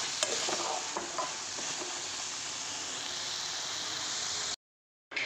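Pieces of fried fish are broken up and stir-fried in a pan, a steady sizzle with scattered spatula clicks and scrapes early on, before the sound drops out near the end.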